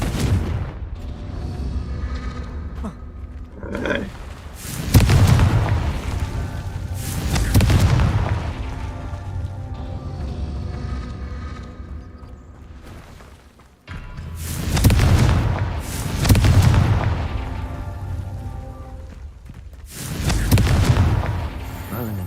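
Confringo fire spell explosions in the video game Hogwarts Legacy: several loud, deep booming blasts in repeated bursts, each with a rumbling tail, set against game sounds.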